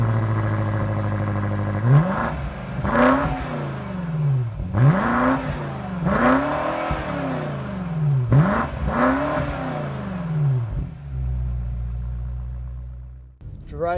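A 2025 BMW M8 Competition Gran Coupe accelerates hard on the road, its engine revving up through repeated gear changes in rising and dropping sweeps, loud and close, then settling to a steady lower drone.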